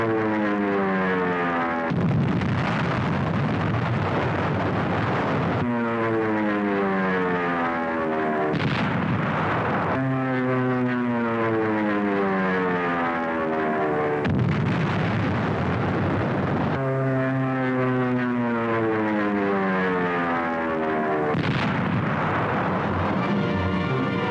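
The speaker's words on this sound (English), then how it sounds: "Now Mount Suribachi is smeared by Navy dive bombers." Navy dive bombers attack Mount Suribachi on Iwo Jima: loud, continuous roaring aircraft engines with repeated rising and falling drone sweeps, punctuated by heavy blasts and bursts of gunfire.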